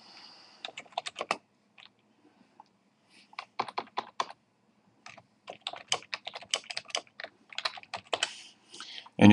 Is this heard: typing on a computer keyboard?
yes